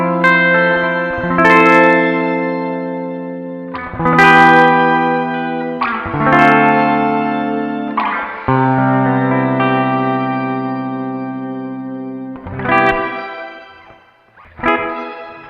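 Guitar through a first-generation Strymon BlueSky reverb pedal in plate mode, playing slow ringing chords and single notes, each trailed by a long, shimmering, airy reverb tail that fills the gaps.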